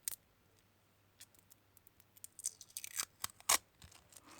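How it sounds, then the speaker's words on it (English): Yellow tape is peeled off lithium battery cells scavenged from a Poundland Alexa charger, giving quiet sticky crackles and tearing clicks that build into sharper, louder rips toward the end, with no talk. "So I'll take this tape off at the bottom."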